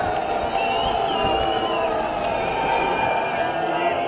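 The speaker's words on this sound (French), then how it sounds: "À son arrivée sur la promenade des Anglais, le Premier ministre est conspué." A large outdoor crowd on the Promenade des Anglais in Nice jeers at the French Prime Minister, a dense, continuous wall of shouting voices and whistles with no pauses.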